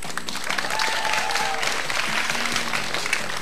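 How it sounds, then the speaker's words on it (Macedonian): Young people at a school event applaud steadily for a guest named Bojan, a sustained wash of clapping with a few faint tonal sounds and voices underneath. "Да чујам аплауз за Бојан, дечки?"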